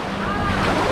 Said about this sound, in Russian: Мы на пляже.